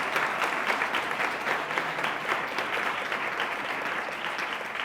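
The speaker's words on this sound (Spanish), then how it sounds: "Que les pido porfa un fuerte aplauso para ellos porque se lo curran un montón." Audience at an e-commerce and spatial computing talk gives the team a sustained round of applause, dense steady clapping filling the hall throughout without a break.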